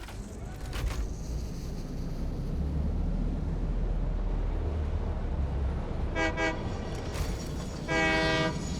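Steam-style train horn blasts in the factory-building game Satisfactory: two short toots separated by a pause, over a low rumbling engine hum, fairly close and clear.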